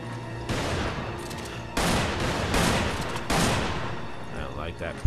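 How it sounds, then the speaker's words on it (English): Shotgun blasts in the game Resident Evil 5, a dense run of loud booming shots layered with gunfire and action sounds, with several sharp new bursts over about five seconds. "That's because I was hitting him with a shotgun."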